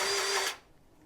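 A hand grease gun working a fitting on farm equipment, a brief loud pumping burst with a steady tonal whine that stops abruptly about halfway through.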